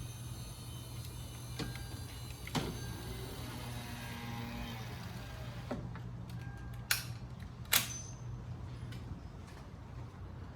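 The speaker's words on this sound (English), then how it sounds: "So to roll the window down, just plug this thing back in, and then turn the car on, and you can roll it down." A 2015 Lexus GX460 door opened for lock actuator work, its power window motor whirring steadily as the glass rolls down, faint and close, with an idling hum underneath and a few sharp clicks and knocks later on.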